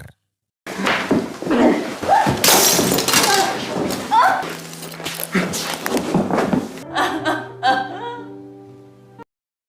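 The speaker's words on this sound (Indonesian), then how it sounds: "Hingga pertengkaran itu berakhir saat foto pernikahan mereka jatuh dan hancur." In a Korean drama film, a framed wedding photo crashes and shatters into glass during a heated fight, loud and close, amid raised voices, followed by sustained musical tones.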